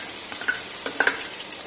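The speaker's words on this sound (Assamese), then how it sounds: "আৰু এতিয়া ভালকৈ মই পিঁয়াজখিনি ভাজি ল'ম।" Onions for a Nepali-style mutton curry fry in a pan with a soft steady sizzle, broken by a few light scrapes and clinks of a spoon stirring, close by and with no talk.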